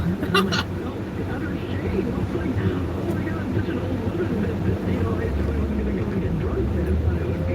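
A Ford Aerostar van's 132-horsepower 4-cylinder engine runs with a steady, low droning rumble that holds an even level from start to finish.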